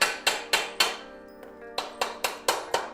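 Sharp metallic hammer blows ring out as aluminum Aton shelf parts are knocked together, about ten loud, close strikes in an even rhythm with a short pause in the middle, each leaving a brief ringing tail.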